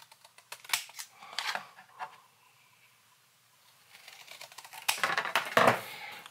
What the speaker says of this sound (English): the way I quickly make my own viewfinder is just cut the corners